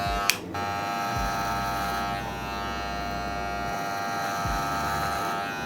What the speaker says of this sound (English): I'm going to want to tilt the clipper and match that grow out pattern and go like that